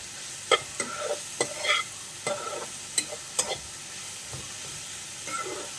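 A spoon stirs salted vegetable thoran in a pan, with several distinct scraping clacks spaced irregularly over a soft, steady sizzle, close and fairly quiet.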